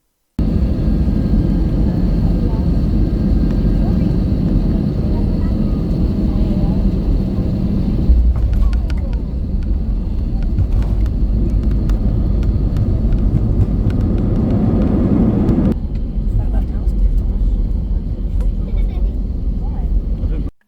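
Steady loud cabin roar of a 16-year-old EasyJet A320 airliner in flight, a continuous broadband rumble that shifts slightly in tone partway through, heard from inside the cabin.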